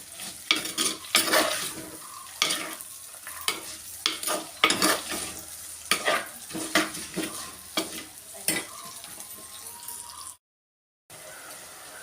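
Curry leaves and chilies sizzle in hot oil for papaya pickle while a spoon stirs them in repeated scraping strokes against the pan, close and clear, ending in a brief silence.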